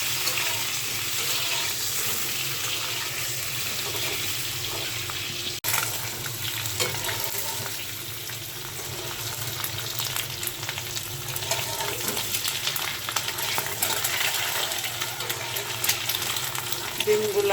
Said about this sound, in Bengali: ডিমটা আগে আমি হালকা একটু লবণ মেখে তেলের উপর ভেজে নিচ্ছি।